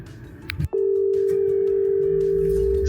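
After a brief click, a steady, unbroken electronic phone call ringing tone hums loudly and evenly for a couple of seconds.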